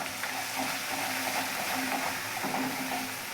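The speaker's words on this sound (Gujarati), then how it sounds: "મસાલા બે ત્રણ સેકન્ડ માટે શેકાઈ જાય" Coriander-cumin powder roasting in hot oil in a pan, a steady loud sizzle and fry with faint stirring scrapes, close up and continuous, with no talk.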